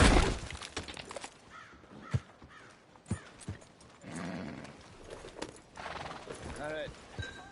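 A horse in Red Dead Redemption 2 neighs and whinnies with snorts and hoof clops, mixed with game-like effects and occasional bird caws; a person talks intermittently.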